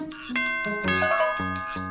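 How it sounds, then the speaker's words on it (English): A two-tone ding-dong doorbell chime from a children's cartoon, rung twice in quick succession with clear bell tones sustaining over a soft musical background. "And then the doorbell rang."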